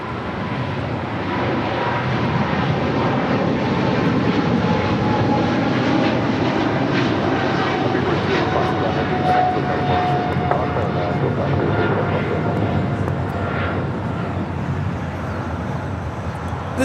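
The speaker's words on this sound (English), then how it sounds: "This is British Airways Flight 280 taking off to London Heathrow on a 777-300 ER" Steady, loud jet roar from a British Airways Boeing 777-300ER, Flight 280, taking off from LAX for London Heathrow, holding strong and continuous with a faint voice in the background.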